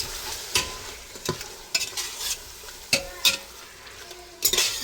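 Mutton biryani being stirred in a pan with oil and ghee, a spoon scraping and clanking against the metal in a handful of sharp strokes over a soft, continuous sizzle.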